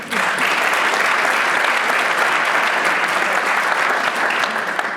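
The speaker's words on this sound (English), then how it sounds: "We can clap for that one." Audience applause for the introduction of the Atlanta Housing Board vice chair at a community housing event, a dense, steady burst of clapping that stays loud and even for the full five seconds with no talk over it.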